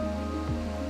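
Steady rushing water from a waterfall at a villa restaurant in the Philippines, where diners wade in shallow water, forms a dense, even wash of sound with no voices.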